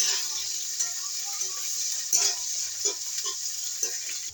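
Dried fish (shutki) being stirred in a frying pan, a soft continuous sizzle with occasional scraping knocks of the spoon against the pan, fairly quiet and close.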